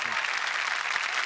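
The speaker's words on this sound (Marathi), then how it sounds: "आणि द गुरु, जोरदार टाळ्या गुरुसाठी." A studio audience at a Marathi TV comedy show claps steadily, a dense, even burst of applause lasting just over a second.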